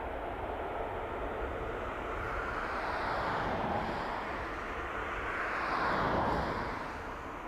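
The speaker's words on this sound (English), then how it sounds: "Tap Air Portugal to Lisbon, A321 Neo, flight 26." TAP Air Portugal Airbus A321neo at Toronto Pearson Airport at night, a steady broadband engine roar that swells slightly and stays distant, with no talk.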